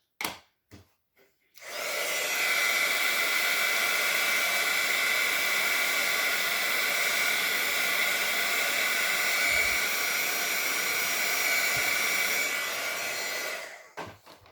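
A hair dryer blows steadily on freshly stamped ink on a handmade card, a loud continuous whooshing drone that runs for about twelve seconds after a couple of brief clicks, then cuts off.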